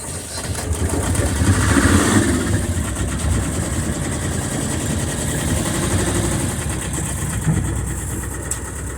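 An engine running steadily during an engine and shift linkage test, a loud, close, continuous rumbling idle that swells slightly near the start, then holds an even drone with no talk over it.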